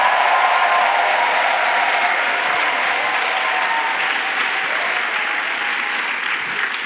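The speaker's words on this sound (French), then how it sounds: "Let's clap." A church congregation bursts into sustained clapping during worship, a dense, even wash of applause that holds steady and fades slightly toward the end, with no speech over it.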